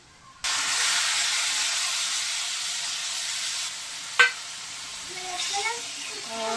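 Raw mutton drops into hot fried masala with a sudden loud burst of steamy sizzling hiss that holds steady, then a sharp clack of a utensil and softer stirring as the hiss continues up close, with a faint voice near the end.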